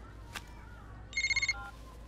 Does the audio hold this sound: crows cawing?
no